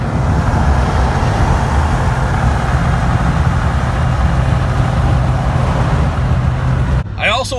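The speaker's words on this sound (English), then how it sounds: "I got a Ram next to me right now on the highway with very loud tires." Loud, steady roar of traffic on a highway, including a Ram truck with very loud tires rolling close alongside, a constant broadband rumble that cuts off abruptly near the end.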